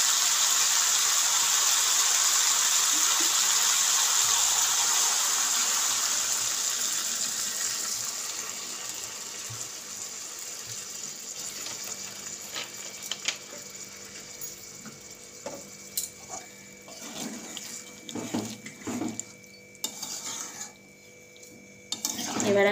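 Water from a tap gushes in a steady stream into a pan of raw jackfruit and prawn curry in a village kitchen, loud and continuous at first, then thinning to a softer trickle with light clinks of metal.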